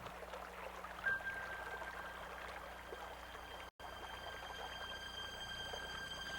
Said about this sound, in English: It was fascinating to watch the melt streams flowing from higher ground down to the streams and valleys.